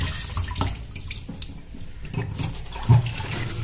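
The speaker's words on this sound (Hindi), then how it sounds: "तो टैप वाटर के नीचे पानी से अच्छे से मैं धो लूँगी इसे" Tap water runs over a raw fish being washed by hand in a kitchen sink, a close continuous splashing stream with uneven surges and sloshing as the fish is turned under it.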